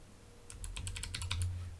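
A computer keyboard is struck in a quick run of about ten sharp, close clicks of typing, spacebar presses among them. The clicks land over a faint low hum, with no talking.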